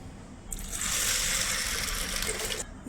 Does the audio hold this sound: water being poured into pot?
yes